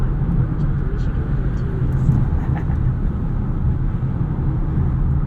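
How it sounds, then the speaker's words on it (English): A 2021 Polestar 2 electric car slowing from speed: a steady low tire roar with a faint regenerative-braking hum, continuous and even throughout, with no talking. "You get a little bit of tire noise, a little bit of regen noise coming down from speed."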